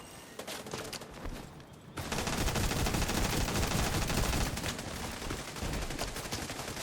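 Heavy, sustained gunfire in The Division 2 from a shotgun-heavy tank build, sparse shots at first and then a dense, roaring barrage from about two seconds on, loud and continuous.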